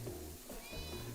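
A domestic cat meowing a couple of times nearby, fairly quiet, with a faint background hum and no speech.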